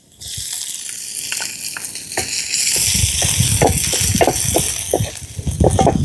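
Ginger garlic paste frying in a pan with onions: a steady close sizzle with intermittent stirring scrapes and rattles, building louder after the first couple of seconds.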